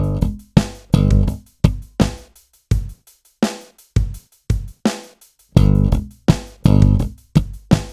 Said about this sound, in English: Then we repeat that, but this time we do 2 muted slaps.